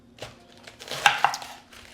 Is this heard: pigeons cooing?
no